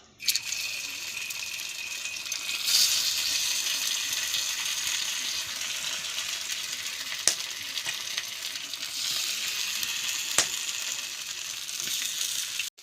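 Marinated slices of raw banana coated in rice flour fry in hot oil on a flat pan, giving a steady close sizzle and crackle throughout, with a couple of faint clicks and no speech.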